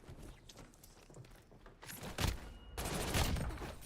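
Rapid automatic gunfire from Call of Duty: Warzone: scattered shots at first, then two loud, close bursts that carry through to the end.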